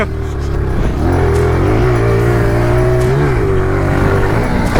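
Pit bikes ride on a small supercross dirt track, their engines whining and revving loudly and close, the pitch rising and falling steadily throughout.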